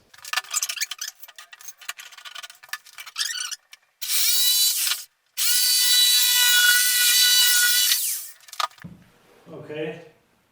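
A plastic panel is sawn by power tool in bursts: scrappy scraping and rubbing at first, then two long, loud, buzzing cuts with a short pause between, followed by a brief lower rumble near the end.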